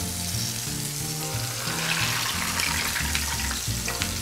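Sage leaves frying in oil in a pan, a loud, close, continuous sizzle with bubbling, heard alone without talk.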